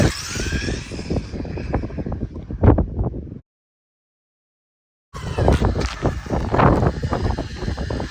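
A Jiusi PT14R RC car on a 3S lipo does a drag run: a loud buzzing motor whine for about three seconds, a sudden drop to silence, then the whirring and rushing return.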